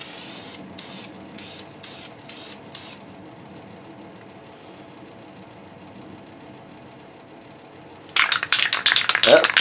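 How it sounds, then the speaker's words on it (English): Spray painting an engine cowl for a 33% scale Taylorcraft model in multiple thin coats: a few short spray bursts early, a quiet pause, then a louder, sustained hissing spray near the end. "I'm gonna spray it the same way I sprayed the other ones, where it's gonna be multiple thin coats"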